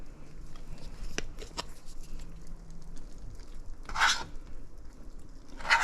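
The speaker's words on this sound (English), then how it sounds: "we take a tablespoonful and we just drop it on there. With the help of a spatula, you can flatten it" A spatula presses and scrapes spoonfuls of Guyanese sugar cake mixture flat, giving soft taps and a couple of brief scraping swishes, faint and close with quiet gaps between.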